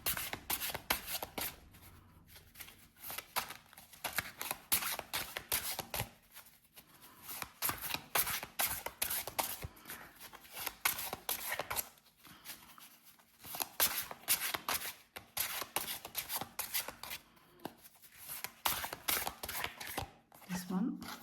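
Oracle and tarot cards are handled and shuffled during a card reading, giving a steady run of close, soft riffling and sliding bursts with brief pauses, while a person speaks quietly over them.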